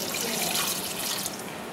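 Tap water runs in a continuous, fairly loud rush while being collected for Sylheti-style mukir dal, close by with no voices.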